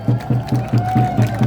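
Crowd at an outdoor Korean presidential campaign rally in the plaza before the old provincial office in Gwangju, with rhythmic clapping or chanting bursts repeating about every quarter second over a sustained tone, loud and steady throughout.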